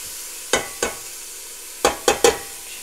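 Beef browns in a Dutch oven with a low, steady sizzle, broken by five short, sharp bursts of scraping and spitting fat spaced unevenly over a few seconds.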